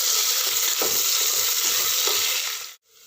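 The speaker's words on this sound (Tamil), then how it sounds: "இப்போது வெங்காயம் நல்லா வதங்கட்டும்." Onions and whole green chillies sautéing in hot oil for a vegetable biryani, a loud, dense, continuous sizzle with stirring scrapes that cuts off abruptly near the end.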